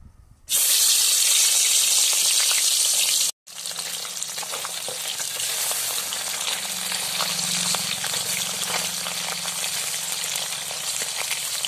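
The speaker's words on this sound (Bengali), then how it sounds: "আমি এখন নুন হলুদ মাখিয়ে এখন এই মাছগুলো ভেজে নেব" Fish coated with salt and turmeric frying in a pan, a loud steady sizzle that starts suddenly, briefly cuts out, then continues as a softer, crackling hiss.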